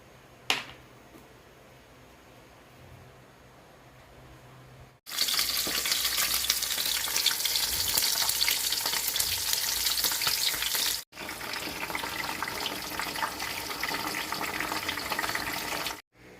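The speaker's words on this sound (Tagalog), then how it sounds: "Pipirituin na natin yung ating daing na bangus." Dried milkfish (daing na bangus) frying in hot oil, a loud dense sizzle that begins sharply after a quiet start, breaks off briefly, then resumes steadily to the end with some crackle.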